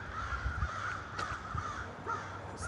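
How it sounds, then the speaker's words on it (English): Crows caw repeatedly outdoors, harsh calls rising above a steady background hum, fairly distant with no voices. "Listen to those birds."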